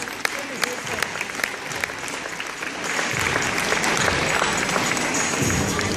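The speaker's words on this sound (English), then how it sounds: "Let's give all our contestants another round of applause." An audience applauds pageant contestants at a Mr. Purrfect show, sparse scattered claps at first that thicken into steady, full applause for the second half.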